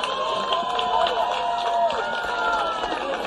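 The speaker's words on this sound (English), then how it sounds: "First up, a big round of applause for USA and Jamaica for a thrilling final." A crowd cheers and applauds continuously in a large space after a women's rugby sevens championship final, with a steady roar of voices and clapping.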